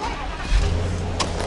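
A Volvo XC90 engine turns over and settles into a low rumble, growing slightly louder as the vehicle pulls away, with faint voices in the background.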